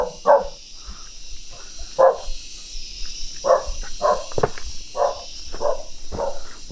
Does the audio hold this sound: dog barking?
yes